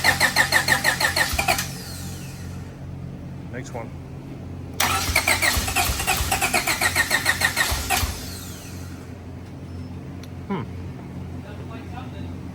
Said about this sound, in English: This is the third car in a row I've been filming a new engine starting.